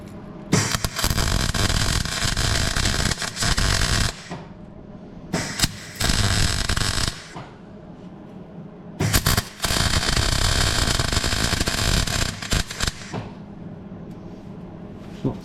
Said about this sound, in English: It's not the tidiest welding I've ever done.